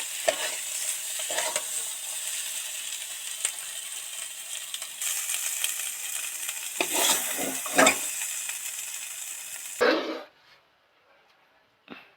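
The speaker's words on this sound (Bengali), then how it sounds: "সব গুলো দিয়ে দিলাম আস্তে আস্তে আস্তে আস্তে এর সাথে মেশাতে থাকবো" Khichuri stirred with fried spices in a pan makes a continuous sizzle with scraping stir strokes, close and fairly steady, swelling near the end before stopping abruptly into quiet.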